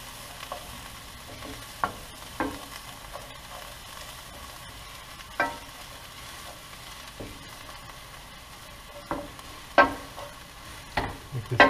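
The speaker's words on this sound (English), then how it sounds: "we're going to start throwing in our garlic. Sure we start moving that around so it doesn't burn or anything." Garlic for pancit sizzles softly in a hot pan while a utensil stirs it, with scattered sharp scrapes and clinks over a low steady frying hiss, close and without talk.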